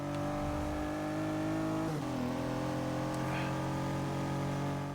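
A Pontiac Aztec's engine in the Forza 6 racing game drones steadily with layered tonal harmonics, dipping briefly as a gear shifts before climbing again, loud and continuous under occasional talk.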